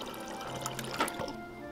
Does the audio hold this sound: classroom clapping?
no